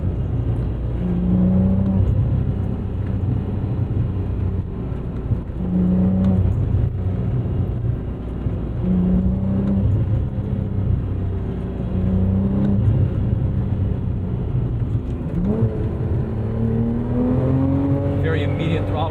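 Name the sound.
2012 Porsche 987.2 Cayman R engine accelerating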